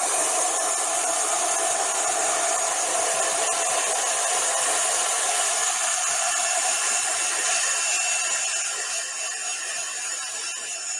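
A heat tool blows steadily to dry a mixed media bee card, a loud, continuous whooshing roar running from start to end and easing slightly near the close.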